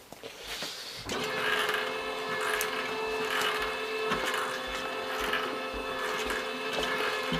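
LAB500 labeling machine's conveyor belt with rubber ribbons starting up after a quiet second, then running as a loud, steady mechanical whir with a faint rhythmic pulse, alone without talk.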